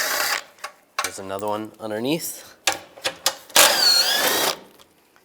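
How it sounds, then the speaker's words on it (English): A 13mm socket ratchet loosens a bolt while a 1999-2005 Volkswagen Jetta radiator fan assembly is being removed, giving short bursts of quick clicks between stretches of someone talking. "Using a 13mm socket, we'll take this bolt out."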